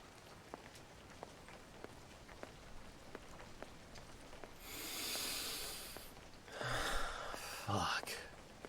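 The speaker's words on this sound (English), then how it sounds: "The rain has picked up quite a bit." Rain falls on a city street in Yokohama at night, a soft steady patter with faint ticks that swells into a heavier rushing downpour, with breathy movement close by.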